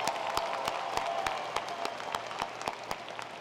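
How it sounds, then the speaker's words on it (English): Applause at a spring commencement ceremony for student musicians and alumni, a steady wash of many hands clapping from a large crowd, with some individual sharp claps standing out. "Please give a round of applause for all of our student musicians and our alumni who are here"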